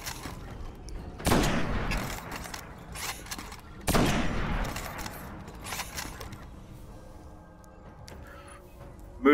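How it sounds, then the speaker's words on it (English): Praedyth's Revenge, a legendary sniper rifle in the video game Destiny, fires two loud sharp shots several seconds apart, each followed by a decaying echo, with mechanical reload clicks and clacks in between. "when we put Flared Magwell on, as you can see here, the gun is going to reload a lot quicker"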